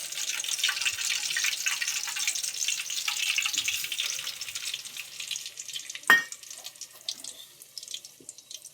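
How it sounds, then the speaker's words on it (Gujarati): A constant, bright hiss of hot ghee sizzling in a pan while making sheera. A single sharp clink rings out partway through. "ઘી તો મારું ગરમ થઈ ગયું છે"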